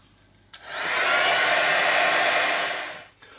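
A hair dryer blows on layers of paint in an art journal, switching on abruptly with a sharp click, running loud and steady for under three seconds, then cutting off.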